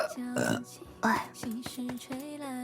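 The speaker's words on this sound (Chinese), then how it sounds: "哎呀妈呀，打了个大嗝" A loud burp from a streamer, followed by excited talk, short and close to the microphone.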